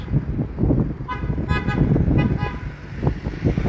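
A car circling past a street protest gives a few short toots of its horn over loud engine and road noise, close by, with crowd murmur underneath.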